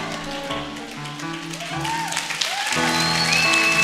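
A church congregation claps steadily like a rain-like wash, mixed with sustained music and a voice, growing louder in the second half.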